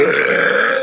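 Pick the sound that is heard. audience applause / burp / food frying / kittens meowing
burp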